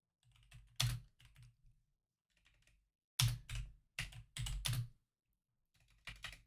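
Fast, clattering typing on a computer keyboard comes in uneven bursts separated by short silences, close and fairly loud.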